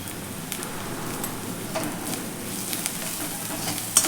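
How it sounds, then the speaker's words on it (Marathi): Chopped coriander fries in oil in a pan, making a faint, even sizzle with occasional light stirring scrapes and a small clink near the end. "कोथिंबीर पण छान अशी आपण यामध्ये फ्राय करूयात तेलावरती"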